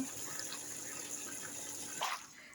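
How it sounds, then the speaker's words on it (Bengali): Tap water runs steadily into a sink while freshly cut fish is washed, with a brief splashing surge near the end and no one speaking. "আস্তে আস্তে আমি মাছগুলো ধুয়ে নেব।"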